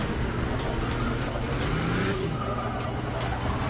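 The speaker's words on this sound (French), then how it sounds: "Oh, le freinage." Car braking hard in the Forza Motorsport 6 racing game, a continuous loud engine roar with tire scrubbing and a rising squeal through the middle, steady throughout.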